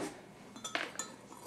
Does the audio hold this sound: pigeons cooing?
no